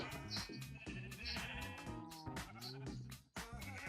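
Minecraft sheep bleat repeatedly in quick, overlapping nasal calls, loud and close, with several animals layered together and brief gaps between bursts.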